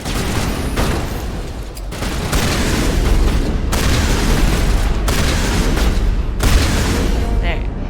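Shotgun blasts during a firefight on Noveria in Mass Effect Legendary Edition, several loud booming discharges separated by brief gaps over dense combat noise and rumble.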